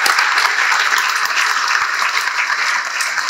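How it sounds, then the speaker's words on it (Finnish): A crowd applauds steadily at an anniversary gala in Finlandia Hall, Helsinki, dense clapping from many hands filling the whole moment without pause. "Annetaanko raikoit aplodit, hyvät ystävät, Jukka Voijola, Hanna Broterus."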